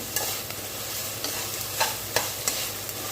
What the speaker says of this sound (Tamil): காலிஃப்ளவர் போட்டு குழம்பு மிளகாய் போட்டு வறுத்துட்டு இருக்கோம்